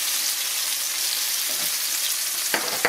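Catfish fillets pan frying in a hot cast iron skillet give a steady, dense sizzle throughout, with a couple of sharp clinks from a utensil near the end.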